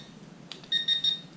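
An XP Mi-6 pinpointer emits three short, high electronic beeps in quick succession, signalling its second sensitivity level, clear against a quiet background after a faint click.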